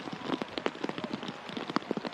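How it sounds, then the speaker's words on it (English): Rain falling on an ultimate frisbee playing field during a mixed-division match, heard as a steady patter of close, crisp droplet hits spread evenly across the moment. "the rain a little heavier now"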